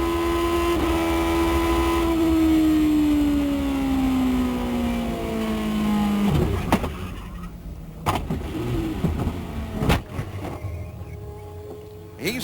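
An IndyCar race car engine heard from the onboard camera, a loud sustained tone dropping steadily in pitch as the car slows, then breaking into rough, uneven mechanical noise with sharp bangs near the end.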